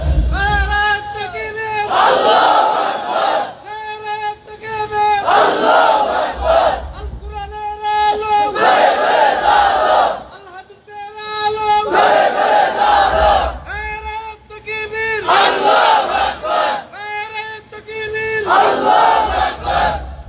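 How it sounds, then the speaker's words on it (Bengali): A large crowd chants the Takbir slogan in loud, repeated call-and-response bursts, voices roaring together in rhythmic waves with brief pauses between each shout. "সবাই বলেন তাকবীর দেন"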